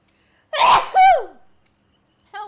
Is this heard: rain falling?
no